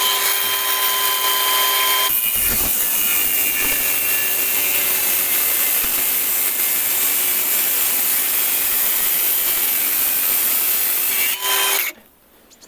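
Procraft Industrial AG125C cordless angle grinder at third speed cutting a 30x20 steel profile with 2 mm walls, a loud, continuous high-pitched whine and grinding hiss close up that runs steadily before abruptly stopping near the end.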